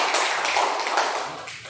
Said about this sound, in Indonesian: Tepuk tangan untuk kita semua dulu.